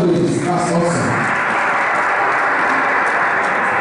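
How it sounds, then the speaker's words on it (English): Sustained applause from a gathered crowd honoring a widely traveled multilingual man. The clapping is steady and moderately loud, with a voice audible over it at the start. "Please a round of applause for him"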